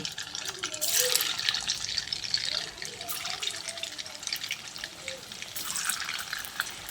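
Soya kebabs frying in well-heated oil, a steady bright sizzle that swells and eases as pieces go into the pan, with a voice speaking over it.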